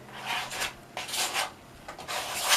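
A credit card wipes gesso across a painting canvas, making soft, rhythmic scraping rubs in repeated strokes, close and fairly quiet.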